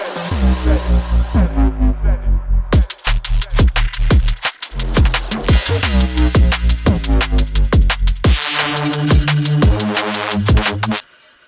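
A loud, fast drum and bass groove with dense broken drum hits over a deep bass line whose tone opens and closes, ending abruptly.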